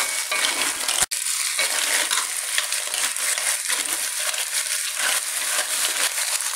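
Lala clams are stirred while frying in plum sauce, a loud continuous sizzle with scraping and clattering of shells in the pan and one sharp knock near the start.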